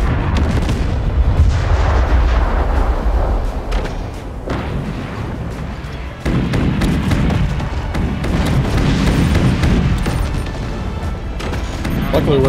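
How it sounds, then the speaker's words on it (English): Deck cannon fire in the naval combat game Forts: repeated heavy booms and rumbling blasts over about twelve seconds, loud and dense, with players talking over the battle. "Tell me when you want to fire it, and I'll fire my deck cannon to distract your AA"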